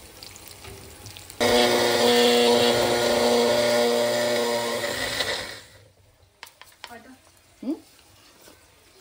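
A mixer grinder dry-grinds mustard seeds with cashew nuts: a loud, steady motor whine starts abruptly, runs about four seconds, then winds down, followed by a few quieter knocks and clatters.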